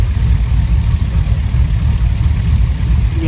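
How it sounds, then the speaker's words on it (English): A car engine idles with noisy valves or lifters, giving a steady, loud, close rumble with a faint rapid ticking texture and no talking. "it's sounding more like valves or lifters or something"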